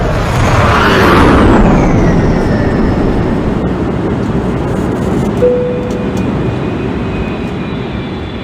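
A train rumbles past nearby at East Putney station on the London Underground, loud and steady, with a rising mechanical whine and a brief high tone partway through.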